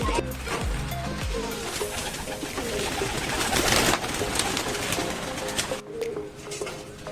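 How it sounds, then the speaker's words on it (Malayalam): Soft cooing from two baby pigeons comes through a busy outdoor background, with people talking nearby. "ഇത് രണ്ട് കുഞ്ഞു പ്രാവെന്നാ പറയുന്നത്."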